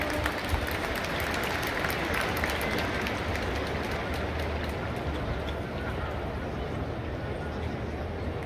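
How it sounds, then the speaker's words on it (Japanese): A baseball stadium crowd at Hiroshima's Zoom-Zoom Stadium applauds after a ceremonial first pitch, a broad, distant, steady roar of clapping and crowd noise that holds level throughout. "拍手をお願いいたします。"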